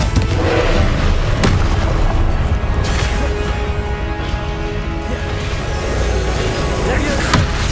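Confringo fire spell blasts in Hogwarts Legacy combat, several sharp explosive booms and crashes scattered over a dense game soundscape, loud and close.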